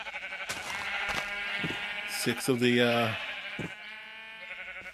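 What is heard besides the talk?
sheep bleating at a sheep farm in video game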